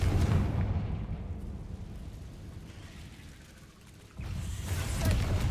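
Spell blasts from Confringo and Incendio in Hogwarts Legacy, a continuous roaring, rumbling burst of fire and explosions that dips briefly before surging loud again near the end.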